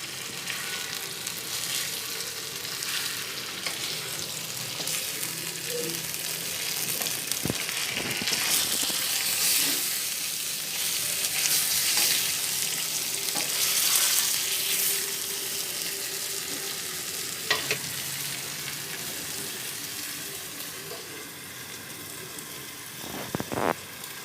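Green chillies fry and are stirred in hot oil, a loud, continuous sizzle that crackles close by for a long stretch, with occasional scrapes of a spoon and no voices.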